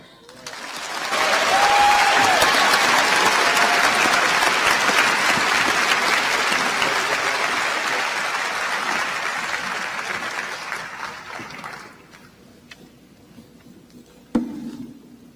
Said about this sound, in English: please welcome with a round of applause the great gentleman, Attorney Benjamin Crump.